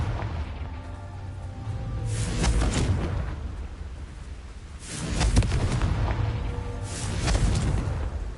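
Blast effects from the Confringo fire spell in Hogwarts Legacy, with a series of booming bursts at intervals that swell loudly over a rumbling background, each trailing off before the next.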